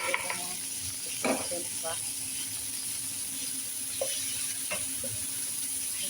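Ground beef sizzles steadily in a frying pan while it is stirred and scraped, giving a constant hiss with scattered clacks. A person talks briefly over it.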